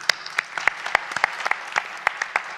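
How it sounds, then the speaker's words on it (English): A thin scattering of claps from a small audience at a startup launch event thanking sponsors, individual sharp claps spaced irregularly rather than a full ovation. "So big round of applause for my sponsors."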